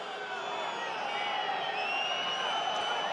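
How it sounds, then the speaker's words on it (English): Stadium crowd at a Montpellier versus Aviron Bayonnais Top 14 rugby match, whistling and hooting steadily, with shrill whistles layered over a continuous crowd roar. "While hoots and whistles from the crowd."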